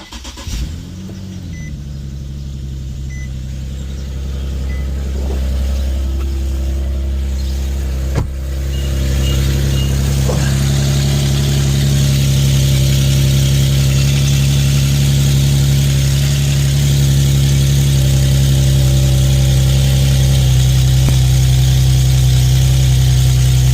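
Infiniti FX37/QX70 with an ISR Y-pipe and a leaking joint starts up and settles into a steady, loud idle, the engine drone holding even and close for over twenty seconds with no talk.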